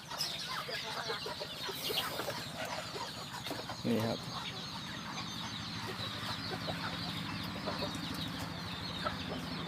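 Bantam chickens cluck softly inside a coop, a steady low farmyard murmur with an occasional louder call. Someone speaks briefly partway through.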